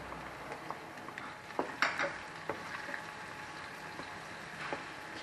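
Garlic sautéing in leftover frying oil, a soft steady sizzle with scattered clinks and scrapes of a utensil against the pan, quiet and close, without talking.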